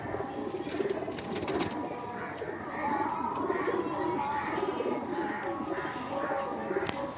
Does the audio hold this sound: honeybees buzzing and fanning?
no